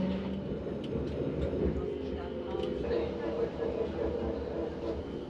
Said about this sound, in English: Soon the tram line leaves the seawall and we swing into the streets of Middelkerke.